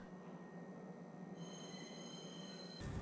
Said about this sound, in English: The train tracks do look a bit more awesome now, even if the trains are still very janky.